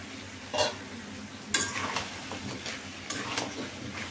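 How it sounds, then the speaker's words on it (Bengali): Duck meat with potato sizzling in a pan while a spoon stirs it, making a soft, steady fry with several scraping strokes close by. "কিছুক্ষণ নাড়িয়ে সামান্য পানি দিয়ে দিব"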